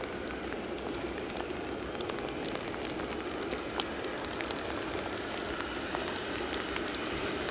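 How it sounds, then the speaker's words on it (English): Steady rain falls outdoors at Edinburgh Airport during a storm with strong gusts, a constant soft hiss with scattered faint drop ticks, even and unbroken throughout with no voices. "Rain is picking up, as you can probably hear on mic."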